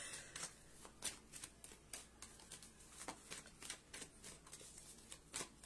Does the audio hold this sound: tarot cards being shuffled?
yes